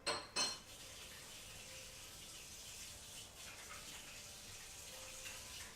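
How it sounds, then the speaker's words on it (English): Hands being washed under running water at a kitchen sink, opening with two sharp clinks, then a steady faint stream of water that continues to the end. "I'm going to go wash my hands just in case"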